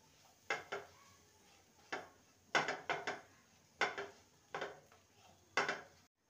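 Sesame paste with a little sugar being stirred in a pan over a low gas flame, a utensil scraping and knocking against the metal in short clustered strokes, close and fairly quiet with no talk.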